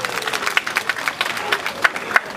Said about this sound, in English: Please give me a round of applause, please.